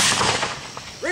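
An honor guard fires a rifle volley at a gravesite dedication ceremony outdoors. One loud, sharp blast rings out and decays, then a voice starts to speak at the very end.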